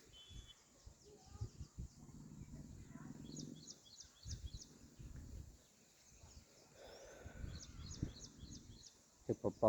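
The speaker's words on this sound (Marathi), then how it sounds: "हे पाखरांचा आवाज येतोय" Birds chirp at sunset near a lemon tree in a breezy yard, with bursts of quick high twittering coming in clusters from a little way off, mixed with rustling and occasional low bumps and breath-like noise.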